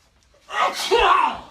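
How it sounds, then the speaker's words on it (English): A single sharp sneeze with a quick intake of breath before it, loud and close. "Oh man, I gotta sneeze."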